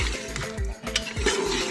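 Yogurt being stirred into meat and turnip in a cooking pot, spoon scraping and clinking against the pot in quick repeated strokes, close and clear with no voice over it.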